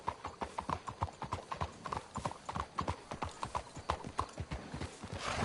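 Steady clip-clop of horse hooves on a path in Red Dead Redemption 2, a brisk continuous rhythm of close hoof strikes with a faint whinny in the mix.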